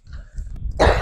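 A single harsh cough bursts out near the end after a brief lull of low murmuring, close and fairly loud.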